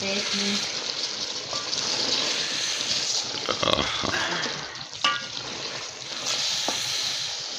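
Ojri (tripe) masala frying and being stirred in a pan, a steady broadband sizzle with occasional scraping stir clatters, close and continuous with a few faint voices in the background.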